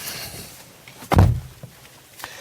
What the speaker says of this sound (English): And it shuts with a small shudder